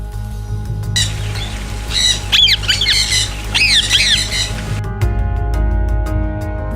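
Birds at KL Bird Park, a large enclosed aviary, let out a run of loud, harsh squawks in quick succession, close by, over a steady background hum, then fall quiet.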